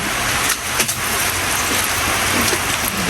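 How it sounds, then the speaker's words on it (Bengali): Steady rain patters and hisses continuously, a dense wash of falling drops with no voices. "বৃষ্টি আবার চলে আসছে"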